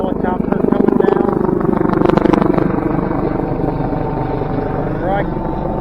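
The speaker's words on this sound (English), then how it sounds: "Got a helicopter coming down." A helicopter descends overhead beside a winter fishing spot, a steady loud rotor and engine drone filling the whole clip and swelling slightly midway, with people talking under it.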